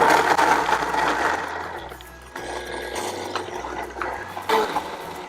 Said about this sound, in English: you're going to need a high-speed blender for this. I'm using a Blendtec.